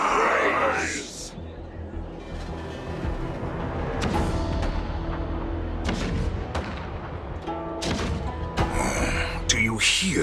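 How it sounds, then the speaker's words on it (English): Deep booming rumble of cannon fire in the video game Honkai: Star Rail, with repeated heavy thuds and blasts layered under a dense battle soundscape, loud and continuous, with a voice speaking over it. "The rumble of the cannons."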